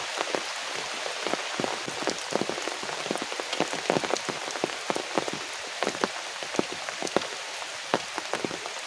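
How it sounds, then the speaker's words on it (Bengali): Heavy rain pouring outdoors in a village during fishing, a constant dense hiss with many sharp drops pattering on nearby surfaces, steady and close with no voices. "তো খুব বৃষ্টি পড়তে আছে, মানে অসম্ভব"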